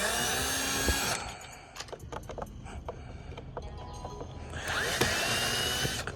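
A power tool backs screws out of a Camaro convertible top, two loud, close whirring bursts with scattered clanks and clicks between them.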